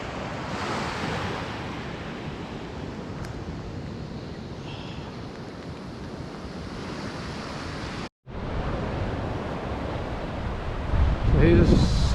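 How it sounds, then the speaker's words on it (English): Choppy, wind-whipped sea rolls into a Fiordland bay under a strong southeast wind, a dense roar of surf and buffeting gusts on the microphone, with a brief dropout and a louder rush at the end. "So here's some of the whipped up"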